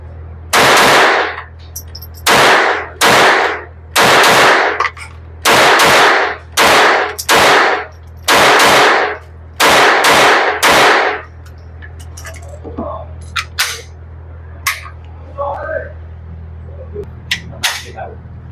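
Loud, close gunfire in a series of about a dozen sharp reports at a range, spaced in uneven pairs and singles, followed by fainter, more distant shots.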